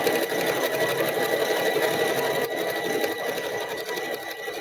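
A sewing machine runs steadily, sewing a decorative top stitch on a drawstring bag, a continuous close mechanical whir with an even rapid needle rhythm and no talk.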